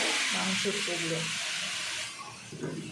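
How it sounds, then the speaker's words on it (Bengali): Spiced masala for a Mughlai paratha filling fries in a pan over a gas flame, giving a steady close hiss and sizzle throughout, with a voice talking over it in the first half. "ততক্ষণ মশলাটা একটু ভালো করে ভেজে নিতে হবে।"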